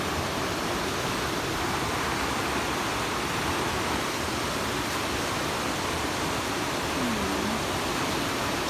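Water rushing past a riverside bank makes a steady, close broadband roar that never lets up, with no voices.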